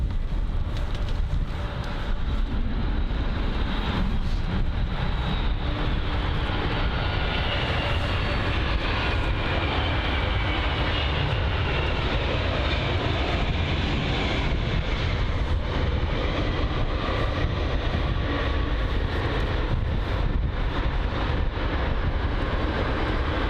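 A United 767 airliner taxis at London Heathrow, a continuous broad engine roar with a faint whine, steady and moderately distant throughout.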